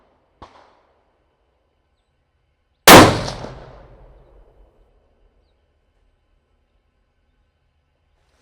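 A single sharp, loud shot from a Seekins PH3 bolt-action rifle in 6.5 Creedmoor fired outdoors at a 100-yard target, a hard crack followed by a rolling echo that fades over about a second and a half, with a faint click before it.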